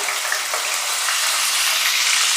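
Fenugreek seeds and cumin frying in hot oil, a close, steady hissing sizzle with no voices.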